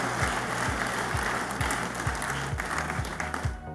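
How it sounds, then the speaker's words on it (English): A crowd at the 10th Ghana CEO Summit applauds President John Dramani Mahama with sustained clapping, backed by a steady rhythmic low thump and a faint voice now and then. "a round of applause for our military CEO"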